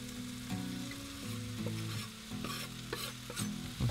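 Ginger added to onions in a pan for a broccoli and peanut stir fry, sizzling and scraped with a utensil, with repeated stirring strokes over a steady frying hiss, close up, with no talk.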